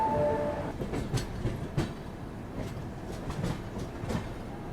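Moving Sanghamitra Express passenger train, a rumbling ride with rhythmic clickety-clack of wheels over rail joints, heard close from on board.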